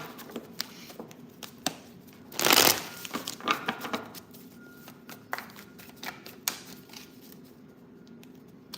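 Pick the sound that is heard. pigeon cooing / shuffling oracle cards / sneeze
shuffling oracle cards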